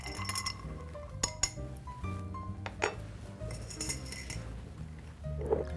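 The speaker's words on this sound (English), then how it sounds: "And we'll stir it into the glass." A spoon stirs a 1920s Prohibition-era cocktail in a glass, giving light metallic clinks and taps against the glass at irregular intervals, close and fairly quiet with no talking.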